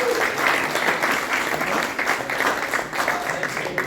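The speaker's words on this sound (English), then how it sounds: "give a round of applause for" Applause from an audience, a steady wash of many hands clapping at moderate level, continuous for a few seconds with no clear speech over it.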